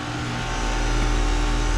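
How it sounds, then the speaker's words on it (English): A 2021 Carrier Comfort 2.5-ton heat pump compressor running in heat mode on a cold day, giving a steady, loud, even mechanical hum with a low drone. "Compressor sounds pretty nice. A bit louder than usual, probably because it's just cold out."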